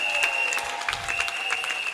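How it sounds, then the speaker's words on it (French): A church congregation applauds steadily during a worship service, with dense, even clapping filling the whole stretch alongside a held high tone, likely from a keyboard. "acclamons Jésus"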